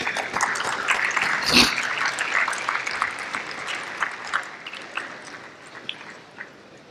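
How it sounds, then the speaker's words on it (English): A scattered round of applause from a small crowd at a sports conclave in Hyderabad, loud at first and then thinning into sparse, separate claps. "Give a good clap to him."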